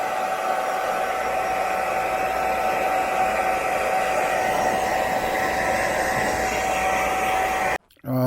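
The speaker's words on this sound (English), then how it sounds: "I'm still drying it out with the heat gun" A heat gun dries wrinkle paint on the valve cover of a 1991 Honda Civic, giving a loud, steady, close blowing roar with a constant whine that runs unbroken until it cuts off abruptly near the end.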